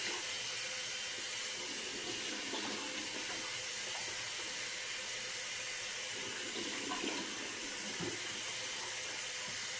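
Running tap water flows steadily into a sink as someone rinses off after shaving, a constant close splashing wash with a few light knocks.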